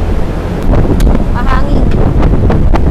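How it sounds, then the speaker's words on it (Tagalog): Strong wind buffets the microphone in a constant low roar at a poultry farm tunnel vent, with faint voices briefly audible beneath the gusts. "Hangin."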